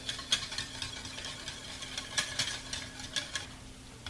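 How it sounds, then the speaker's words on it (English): Sauce goes over meatballs in a hot pan, giving a soft sizzle with scattered scraping stir strokes and light clinks, and no talking. "Then I'm going to pour this over the meatballs."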